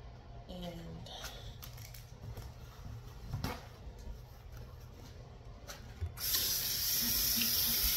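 Tap water running into a sink while someone washes their face, a steady close hiss under light handling noises, swelling louder and brighter near the end as the flow increases.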